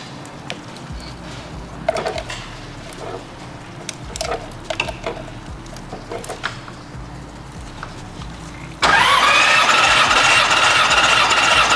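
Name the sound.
Nissan 300ZX twin turbo engine cranking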